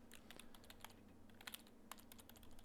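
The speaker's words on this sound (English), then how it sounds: "Oh, hey, keyboard." Keyboard typing inside the video game Everlasting Summer, a rapid irregular run of light clacking keystrokes over a steady low electrical hum, heard alone at moderate level.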